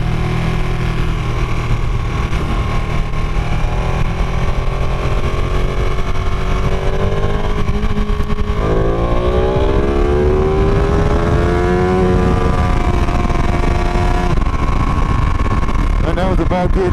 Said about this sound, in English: you don't realise how quickly this bike picks up. And that was literally straight to the limiter in a second or two